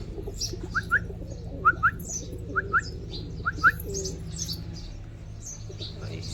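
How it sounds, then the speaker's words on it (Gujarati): Pigeons kept at home cooing with sharp bird chirps repeating in short pairs over a low steady murmur of coos and background hum, no talking. "આપણે કબૂતર પણ રાખ્યા છે"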